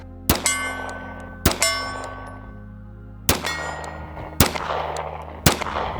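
Loud gunshots from a compact firearm, each followed by ringing metallic dings off steel targets; five sharp reports with resonant clangs that decay over about a second, spaced irregularly.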